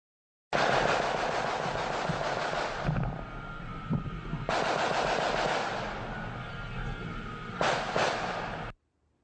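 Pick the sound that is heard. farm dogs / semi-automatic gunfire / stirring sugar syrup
semi-automatic gunfire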